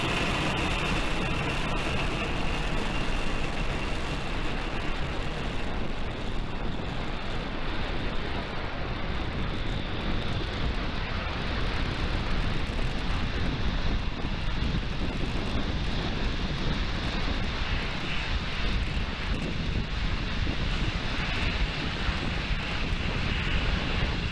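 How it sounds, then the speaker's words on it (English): SpaceX Falcon 9 rocket engines at liftoff, a loud continuous broadband roar that rumbles steadily without a break for the whole stretch, no speech audible over it. "Ignition and liftoff."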